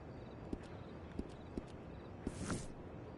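A horse's hooves in Red Dead Redemption Online, sparse faint clip-clop steps at an uneven slow pace, about five distinct hoof hits over a low ambient game background, with no talking.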